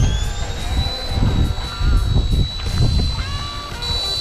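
A miniature RC helicopter lifts off, its rotors spinning up to a steady high-pitched whine with a sustained tonal hum and rustling airflow noise beneath, loud and close throughout.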